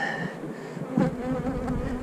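Honeybees hum and buzz close by around an opened hive where a new queen has just emerged. The droning is steady and busy and swells briefly midway.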